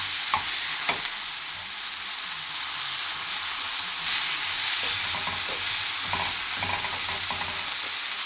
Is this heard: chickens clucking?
no